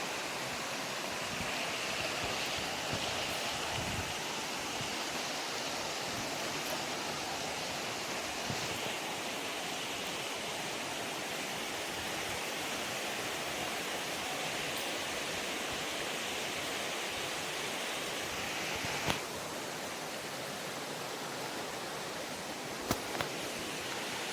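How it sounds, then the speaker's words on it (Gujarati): Steady rushing water of a fresh forest stream in the Bhavnath jungle near Girnar, a continuous broadband wash with no pauses, with a few faint knocks here and there. "પાણી જોવો કેટલું તાજું વહેલું છે"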